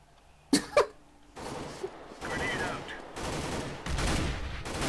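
Grenade blast in the CS:GO shooter: two sharp, loud cracks come close together early on, followed by rumbling, noisy bursts that linger for several seconds.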